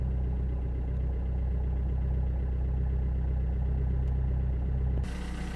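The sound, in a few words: Vauxhall Corsa D 1.3 CDTi diesel engine idling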